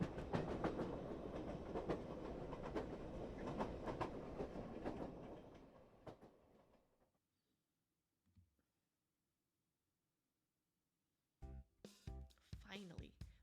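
A train rolling on rails in an otome video game, a steady rumbling clatter with rhythmic clicks that fades out over several seconds, then silence before other sounds resume, with talk nearby.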